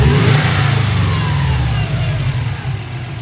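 Loud engine bay of a 2004 Subaru WRX fitted with a block-off bypass valve plate, revving under turbo boost with a dense low rumble that holds steady then eases off slightly near the end, no talking.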